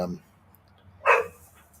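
A single short bark from a Pomeranian or Welsh Springer Spaniel at moderate distance, barking at a nest, with a brief voice sound just before it.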